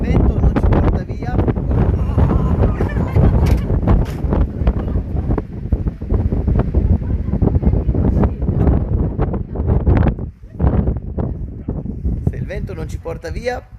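Strong wind buffets the microphone in loud continuous roaring gusts, with a brief lull near the end.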